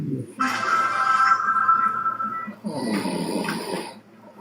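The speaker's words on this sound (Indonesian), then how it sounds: "Ini ada yang ngorok ini, siapa nih?" A person snores loudly during a gathering where people are discussing a Bible passage, producing drawn-out rasping breaths over about four seconds with a brief dip in the middle.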